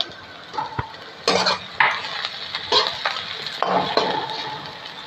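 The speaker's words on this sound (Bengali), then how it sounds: "এই দেখো হালকা হালকা পেঁয়াজগুলো ভাজা ভাজা হয়েছে" Pan cooking with scraping and stirring clatter, several utensil strokes against the pan over a low background sizzle of frying onions and green chillies, no talking.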